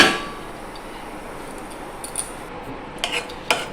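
A lid is set down over a pot of Basanti polao: a few short metallic clanks and taps, moderately close, after a quiet stretch of faint kitchen background.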